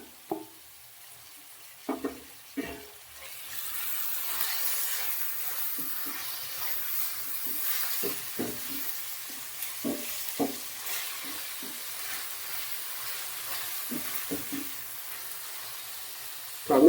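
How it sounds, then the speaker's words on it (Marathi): Tomatoes frying with browned onions in a pan for prawn rice, with a steady sizzle that starts a few seconds in and continues under intermittent spatula taps and scrapes, close by. "टोमॅटो टाकून घ्यायचे मस्त."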